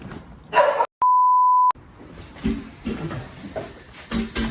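A small dog yips and barks in greeting as people arrive at a yarn factory, short excited bursts amid background bustle, interrupted by one long steady electronic beep.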